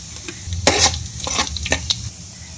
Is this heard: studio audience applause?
no